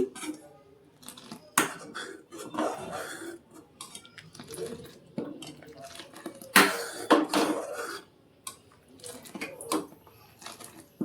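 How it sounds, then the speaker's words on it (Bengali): A spoon stirs thickening chhana payesh in a cooking pot, giving irregular scrapes and metallic clinks against the pot, close and moderately loud, with short pauses between strokes. "এটা এখন নাড়তে থাকবো, নাহলে বসে যাবে। এটা নেড়ে নিচ্ছি।"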